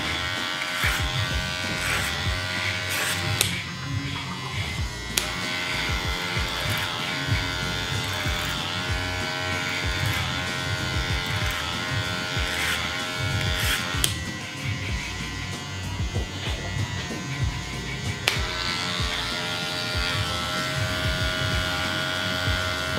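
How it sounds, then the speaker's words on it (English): Electric hair clippers cut hair over a comb in a barbering lesson, a continuous close buzz with brief sharp clicks and shifts in pitch as the blades move through the hair. "so I can clip over comb, so I can bring my comb up into the hair"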